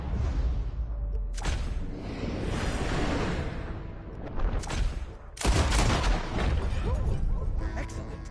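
Gunfire in the Western video game Red Dead Redemption: sharp bursts of shots and rapid volleys crackle in several loud clusters, with quieter gaps between them and game dialogue voices mixed underneath.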